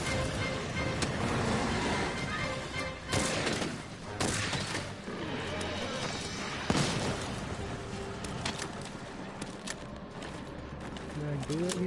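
Shooting in Monster Hunter World: repeated bursts of gunfire and booming impacts punctuate a busy, loud game soundscape, with a person talking over the action.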